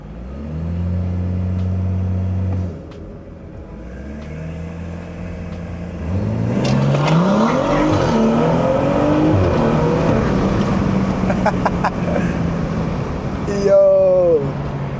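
A BMW 340i with a B58 engine drives along, its exhaust rumbling loud and close, rising as it accelerates, then crackling with a few sharp burbles and pops near the end.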